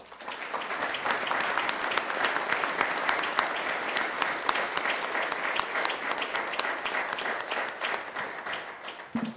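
Sustained applause fills a Sioux Falls city council meeting for an award winner, steady and moderately loud from a crowded room, with crisp individual claps poking through the wash.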